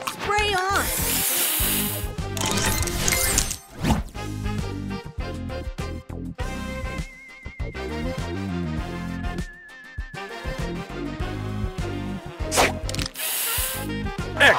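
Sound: spray booster effect in Match Masters video game

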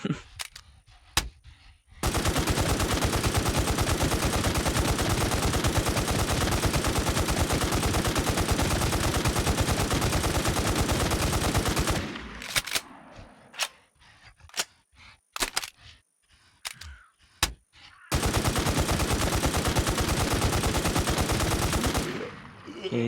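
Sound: gunfire from an FN rifle in video game Infestation

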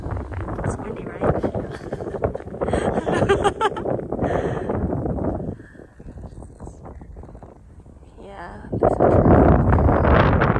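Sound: wind on a hilltop hiking trail

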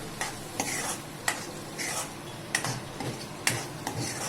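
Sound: stirring and frying onion in a pan for Khandeshi shev bhaji

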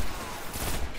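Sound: gunfire from a gun in the video game Destiny

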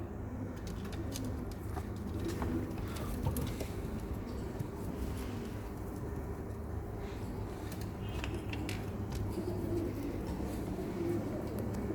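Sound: pigeons cooing

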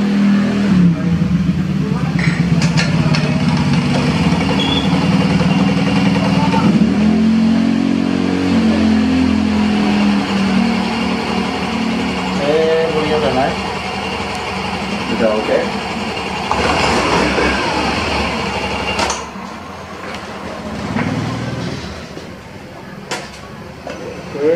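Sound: Yamaha Grand Filano scooter engine started and revved

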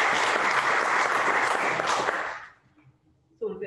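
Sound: congregation applause

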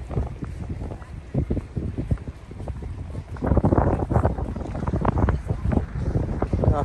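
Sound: strong wind blowing at Port Melbourne Beach

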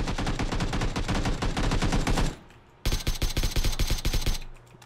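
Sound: gunfire from a video game (PUBG)

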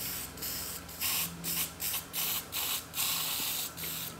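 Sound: spraying rust converter onto Landcruiser leaf spring parts

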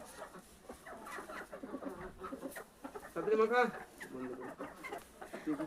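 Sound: chickens clucking

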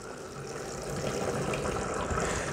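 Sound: water poured onto potted orchid

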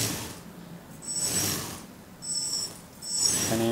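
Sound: Gatling machine gun spinning on a custom tracked model vehicle

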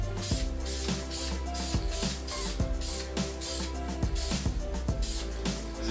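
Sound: spray painting a light coat on alloy wheels

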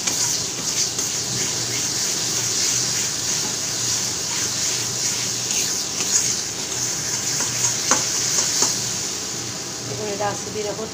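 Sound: stirring green banana mash frying in a pan

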